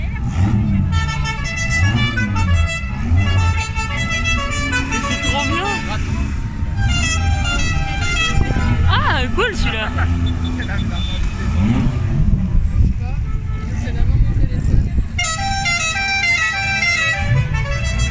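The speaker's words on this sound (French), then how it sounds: "J'adore les klaxons." Car horns honking repeatedly in a stream of traffic at the Magny-Cours circuit in France, with vehicle engines running underneath and people talking throughout.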